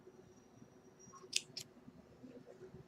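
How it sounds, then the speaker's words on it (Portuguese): Scissors snipping crochet yarn, two quick faint clicks close by over a quiet room hum, no talking. "nós vamos cortar o fio"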